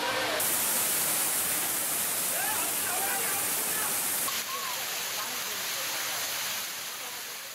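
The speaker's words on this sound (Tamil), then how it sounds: "மெயின் அருவியில் தண்ணீர் விழத் தொடங்கிய நிலையில் சுற்றுலாப் பயணிகளின் வருகை அதிகரித்துள்ளது." Courtallam main waterfall pours as a continuous dense roar of falling water, loud and steady throughout, with a faint voice in the background.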